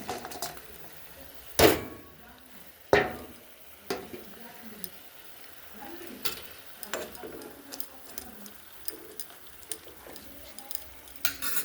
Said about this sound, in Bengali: ফুটে গেছে ঝোলটা মাছগুলো ছেড়ে দিচ্ছি